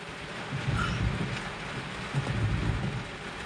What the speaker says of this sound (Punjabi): ਜ਼ੋਰਦਾਰ ਬਾਰਿਸ਼ ਹੈ ਜੀ।